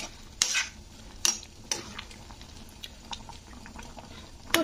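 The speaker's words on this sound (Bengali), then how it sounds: "তো দিয়ে একটুখানি নাড়াচাড়া করে দিতে হবে।" Flour being stirred into boiling water in a pan, with soft scraping and sizzling bubbling throughout and several sharper utensil knocks against the pan, close and moderately loud.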